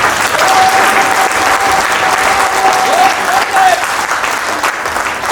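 A company get-together audience claps steadily in a dense, sustained burst of applause. A faint whistle-like tone runs briefly underneath and some voices are mixed in.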